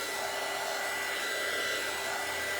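A hair dryer blows steadily on a wet drop cloth, a constant loud whooshing hum with a steady motor whine and no break.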